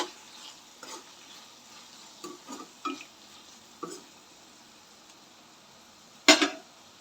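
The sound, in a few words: stirring tomato rice in a pan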